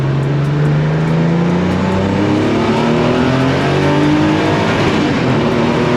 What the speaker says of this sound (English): That's the old turbo lag coming in.